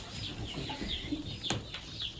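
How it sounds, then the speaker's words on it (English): Silkie chickens and hens cluck and murmur softly in a winter coop, several close, overlapping calls over a steady background hum, with no talking. "And I think that's one of my hens."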